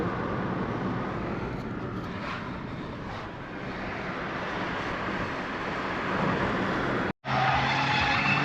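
Car driving on the road toward Šiauliai, a steady broadband engine and road rumble heard from inside the vehicle, continuous and loud with a brief dropout near the end.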